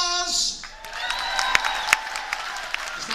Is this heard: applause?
yes